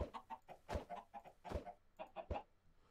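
Chickens in the video game Stoneblock 2 cluck in quick, irregular bursts with a few sharper squawks, close and fairly faint, with no talk over them.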